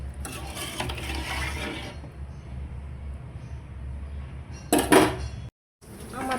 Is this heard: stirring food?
yes